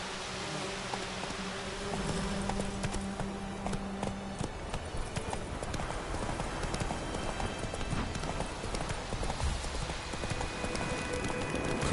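Roach, the horse in The Witcher, clip-clops steadily along, hooves thudding in even rhythm under ambient game music and faint insect-like buzzing, with no talking.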